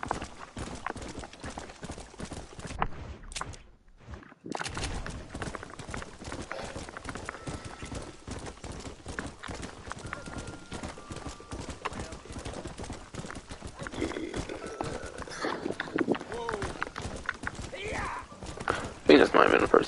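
A horse gallops in the video game Red Dead Redemption, its hooves clip-clopping in rapid steady rhythm throughout, with occasional whinnies, while someone talks over the action.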